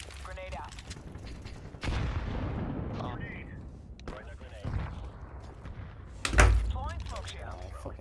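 A grenade detonates in Counter-Strike 2 with a sharp, loud boom and a short rumbling tail. Other gunfire-like cracks and thuds surround it, and voices talk over the game.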